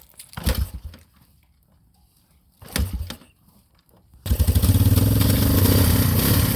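A Honda SL 350 motorcycle engine on a cold morning: two short sputtering bursts of cranking, then the engine catches and settles into a steady, loud, close idle.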